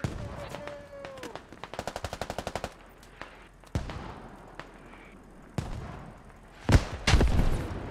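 Mortar and artillery fire in the military shooter Squad: a rapid burst of automatic gunfire, then several heavy booming impacts scattered through the clip, the loudest near the end, with faint voices in the background.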